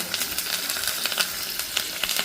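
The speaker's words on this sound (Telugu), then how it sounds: "సో ఈ పోపు కొంచెం మంచిగా వేగిన తర్వాత పులిహోర పోపు వేసుకోవాలండి" Tempering of asafoetida and curry leaves sizzles in hot oil for pulihora, a close, continuous crackling hiss with small popping bursts.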